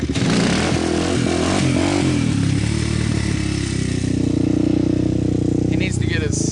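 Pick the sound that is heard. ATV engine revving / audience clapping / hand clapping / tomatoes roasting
ATV engine revving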